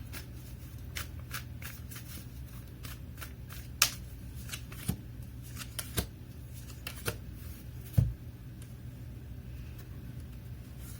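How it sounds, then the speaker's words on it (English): Tarot cards are shuffled and riffled in quiet bursts of soft papery flicks and taps, with a couple of sharper slaps, over a low background hum. "let me pull up some cards here from the universe"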